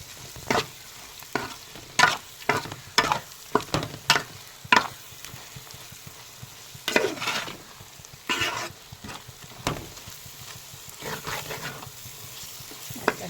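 Chili powder and masala frying in oil for a fish curry, with repeated sharp stirring scrapes and bursts of sizzle over a low continuous crackle.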